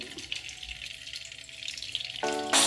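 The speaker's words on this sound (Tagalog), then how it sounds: "Pan-fry po muna natin yung ating onion." Onions pan-frying for Filipino beefsteak (bistek Tagalog), a steady soft sizzle with watery hiss that swells louder and brighter near the end as they hit hotter oil.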